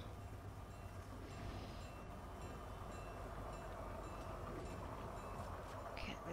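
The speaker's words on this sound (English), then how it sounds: "There's a train." A train in Fortnite rumbles past with a steady low roar and faint rail clatter, heard at moderate distance with no talking.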